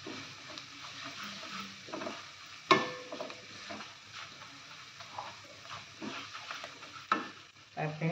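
Chilli and garam masala sauté in a pan for a stuffed brinjal dish, making a soft sizzle with scattered stirring and scraping knocks and one sharp clank.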